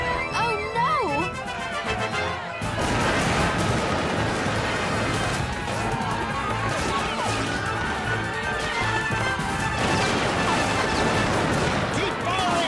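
Cartoon battle with musket gunfire: repeated cracks and crashes over a busy, dense mix of shouting voices and dramatic score, loud and continuous.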